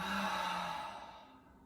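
One big, long exhale during a yoga breathing practice, close and breathy, fading off gradually over under two seconds.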